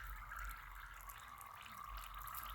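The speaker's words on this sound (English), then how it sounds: "that thing is just hissing and crackling. You see all the bubbles coming out of it?" A treasure toy submerged in a container of water hisses and crackles steadily as bubbles stream out of it, a continuous fizzing wash with no talking.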